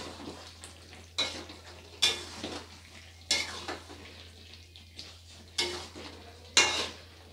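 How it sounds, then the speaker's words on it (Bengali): Pointed gourd korma gets stirred in a pan, each of several spaced strokes making a distinct scrape and clatter over a faint background hum. "তো এটাকে দিয়ে একটু ভালো করে নেড়ে দেবো।"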